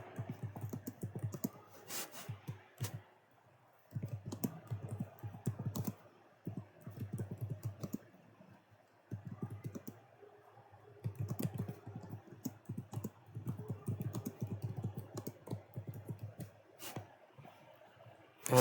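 Typing on a computer keyboard while writing a GitHub repository description: bursts of quick, soft key clicks close by, broken by brief pauses, continuing for about eighteen seconds with no speech.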